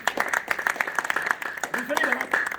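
An audience claps in a quick, fairly even rhythm, moderately loud and close, while a voice speaks over the last part.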